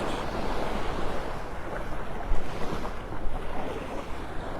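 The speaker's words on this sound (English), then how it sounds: "Still got that breeze coming out of the northeast." Steady northeast breeze on Vanderbilt Beach in Naples, Florida, rushing across the microphone with a broad low roar and surf washing underneath, loud and continuous with a few stronger gusts and no voices.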